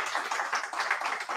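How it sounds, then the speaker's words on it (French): Audience applause at a company anniversary event, a steady patter of many hands clapping at moderate distance, with no talking. "on va applaudir maintenant Axel d'Ipose, s'il vous plaît"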